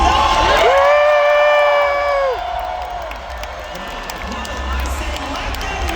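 A large live crowd at a Fortnite FNCS event venue cheers and whoops loudly, with rising shouts over a hyped presenter's amplified voice that fades partway through, leaving a sustained roar.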